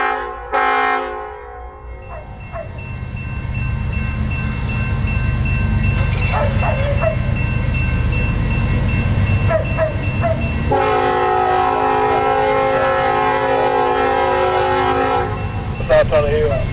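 A CSX coal train passes loud and close at Tunnel Hill, wheels and cars rumbling continuously while the horn sounds in several blasts, the longest sustained near the end, with a dog barking faintly early on.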